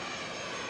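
A large airplane at an airport gives off a steady, broadband jet-engine roar, loud and continuous through the brief moment, with no voices over it.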